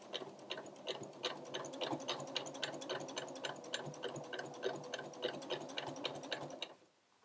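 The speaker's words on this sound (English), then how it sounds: "now that we've completely finished sewing around the outside of our bib" Sewing machine stitching around the edge of a fabric bib, a fast, even run of mechanical ticking stitches close by and fairly quiet, with no talk, stopping abruptly near the end.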